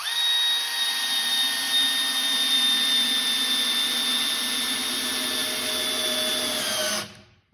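A Milwaukee M12 installation driver running at low speed to drive and countersink a screw, producing a loud, steady motor whine that holds for about seven seconds before winding down abruptly.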